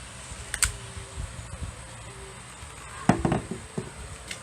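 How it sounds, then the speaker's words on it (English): A Kel-Tec Sub2000 carbine is worked by hand, with a few sharp metallic clicks and clacks as a part is pulled rearward and the barrel released forward, close up and sparse, against a faint background hum. "we got to start by pulling this rearward, releasing the barrel forward"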